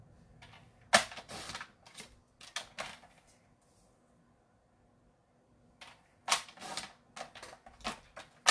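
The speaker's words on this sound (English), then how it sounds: "I'm just going to use my paper trimmer off the screen rather than having to move everything out of the way." A paper trimmer cutting cardstock at a crafting desk, giving sharp, brief slicing and clicking strokes in two separate bursts with a quiet pause between, fairly close and alone.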